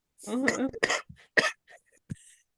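A person gives a few short, raspy coughs and throat-clearing bursts, close up and separated by brief pauses.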